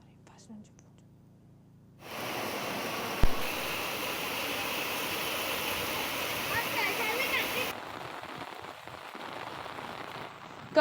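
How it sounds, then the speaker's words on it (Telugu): Heavy rain with strong winds pours down in Hyderabad in a dense, steady roar for several seconds, starting and stopping abruptly, with a soft murmuring voice around it. "భారీ ఎదురుగాలులతో కూడిన వర్షం పడుతోంది"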